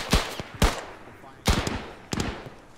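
Gunfire in the military game ArmA 3, several sharp separate shots with echoing tails spaced across an open field, fairly loud and close, with voices partly heard around them.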